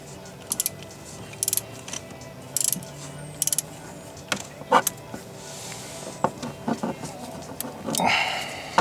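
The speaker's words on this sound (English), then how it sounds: "I have a short socket and a short extension with a ratchet installed, ready to remove the spark plug" A ratchet clicks in short bursts while a spark plug is loosened on a GMC Yukon, the rapid pawl clicks close and crisp, followed by scattered metallic taps and handling clatter and a brief rushing sound near the end.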